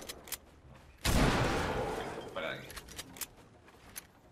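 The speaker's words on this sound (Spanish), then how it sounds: "Ha disparado al aire" Fortnite gunfire erupts in a sudden loud burst of shots that trails off into a decaying rumble, with a few sharper scattered cracks after it and players talking quietly underneath.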